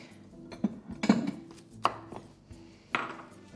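Knife chopping onions and garlic on a cutting board, a handful of irregular sharp thunks spaced over a few seconds, close and clear.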